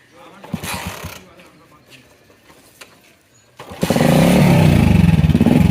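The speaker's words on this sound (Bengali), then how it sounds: "স্টার্ট দেওয়ার সাথে সাথে একটা বিকট সাউন্ড এক্সজস্টের" A motorcycle is started, and its loud exhaust roars in right up close and holds a steady, throbbing idle. A voice talks quietly over softer handling noises beforehand.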